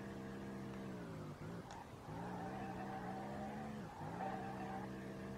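Engine of a drift car in the SLRR racing game, droning steadily at close range with harmonic tones that dip at two gear changes, while tires skid and squeal throughout.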